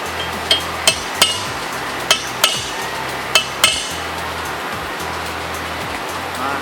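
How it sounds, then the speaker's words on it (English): Sharp metallic taps of a hammer striking a center punch to mark a drilling spot, about seven quick hits in an uneven rhythm over a steady low background hum. "you're going to want to get you a center punch"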